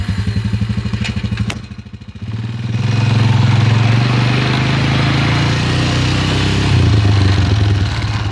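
A vehicle engine rumbles loudly as it ploughs through a mud bog, a deep steady drone with brief dips and surges in revving, close up and heard alone.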